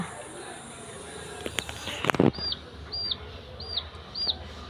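A small chick peeps four times in short, high chirps at a regular pace, fairly faint, following a brief clattering noise.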